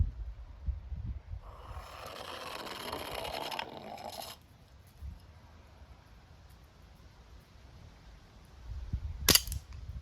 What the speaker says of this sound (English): a BB gun is also varied because the